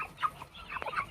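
Guinea fowl and chickens cluck and chatter faintly in short, scattered calls, heard from a little distance over quiet background noise.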